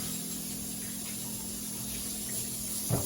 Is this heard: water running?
yes